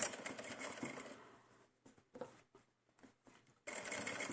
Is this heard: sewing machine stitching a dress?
yes